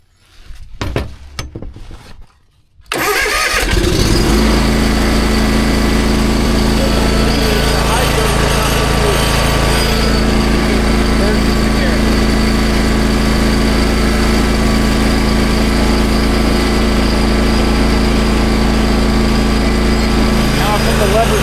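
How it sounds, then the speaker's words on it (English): After a few seconds of clattering, a small riding mower engine cranks and catches, then idles loudly and steadily with a constant rumbling vibration. "then you want to crank the engine"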